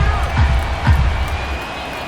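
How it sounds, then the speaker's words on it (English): Stadium crowd in MLB The Show baseball game, Phillies at Guardians, a steady murmur with cheering swells rising twice, under a low continuous rumble. "You can see the crowd. They're starting to get into it a little bit more"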